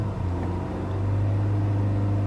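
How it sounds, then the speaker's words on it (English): The engine of a 2015 Lincoln MKC at full throttle, heard from inside the cabin as a fairly quiet, steady low hum that rises in pitch and holds. "the way that the engine sounds, it's a little bit quiet"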